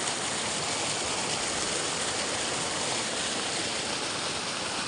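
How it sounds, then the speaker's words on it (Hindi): Mountain spring stream in an Uttarakhand hill village, water rushing steadily through a channel between houses; a loud, continuous broadband gush close by, unbroken for the whole stretch with no voices. "और इतना पानी इसमें जा रहा है।"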